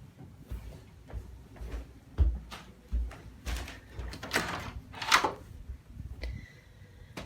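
Several knocks and clunks of a door being handled and swung open, fairly close, followed by a brief higher squeak or tone at the end.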